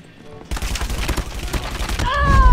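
Shotgun blasts in a Call of Duty Mobile match, a quick run of loud, punchy shots with game sounds layered in, while a player talks over the action.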